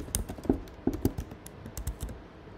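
Computer keyboard typing while entering input settings in the Unity game engine, a quick run of close, crisp key clicks with a few louder presses and no talk.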